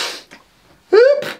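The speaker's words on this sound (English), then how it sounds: "sneezing it out" A single sneeze, short and close, a sharp voiced burst preceded by a quick intake of breath, with no talk over it.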